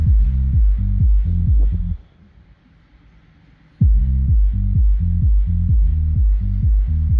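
A cheap electric subwoofer board from Canadian surplus pounds out a steady rhythmic bass test, with loud repeated deep thumps that stop for about two seconds and then resume, while loose sheet metal roofing vibrates along with the bass.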